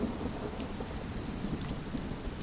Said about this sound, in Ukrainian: Тоді знову почула сильний удар грому.